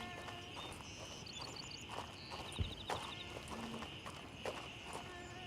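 Footsteps in the military shooter game Gray Zone Warfare sound as faint, irregular steps against a steady ambient hiss, with a few louder scuffs scattered through.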